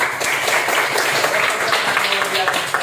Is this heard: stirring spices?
no